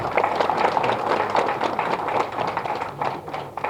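An audience at a film directors' press meet claps steadily, a dense, loud patter of many hands sustained throughout without pause.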